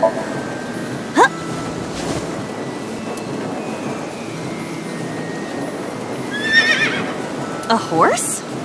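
A horse neighs in a video game, AI: The Somnium Files, with a couple of short whinnies standing out over a busy, continuous background bed, with louder bursts toward the end.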